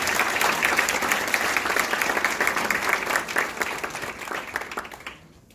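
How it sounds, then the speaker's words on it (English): An audience breaks into a big round of applause welcoming chief guest Keshav Murugesh at a Data Science & Business Analytics programme event, dense steady clapping that fades out at the end. "With a huge round of applause, please welcome our chief guest"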